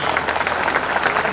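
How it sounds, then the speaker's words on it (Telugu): Brief burst of applause from an audience at a school alumni reunion gathering, clapping for a teacher, loud and dense across the short moment. "సార్కి ఒకసారి చప్పట్లు."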